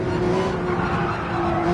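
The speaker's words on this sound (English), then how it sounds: "I heard some engine noises from the right ear here." Race car engines roar steadily side by side at Road Atlanta in a racing video game, a constant dense drone with a sustained tonal whine from a car running alongside and no speech.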